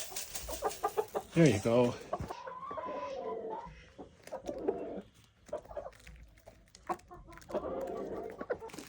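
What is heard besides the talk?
chickens clucking while being fed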